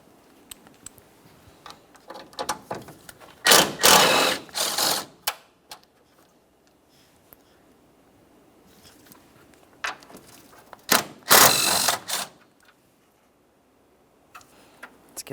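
Ratchet removing 10mm mounting bolts from a radiator bulkhead on a 2012-2015 Honda Civic 1.8L I4, two bursts of rapid close clicking amid scattered faint ticks, with no talk.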